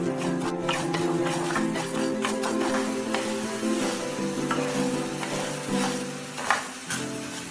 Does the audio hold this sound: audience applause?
no